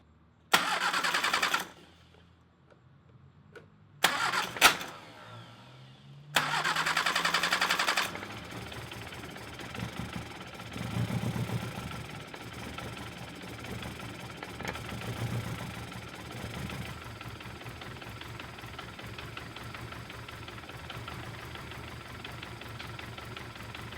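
A classic Mini fitted with a new, unadjusted HIF44 carburetor cranks in several short starter bursts, catches, then settles into a rough, uneven idle close by.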